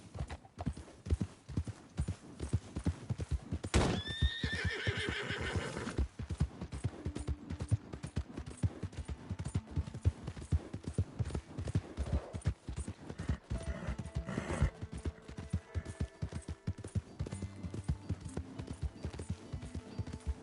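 A horse gallops in Red Dead Redemption 2 with rapid, continuous hoofbeats, a short whinny rising early on over the busy game soundscape.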